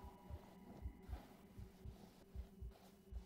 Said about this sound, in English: My heartbeat's starting to go again.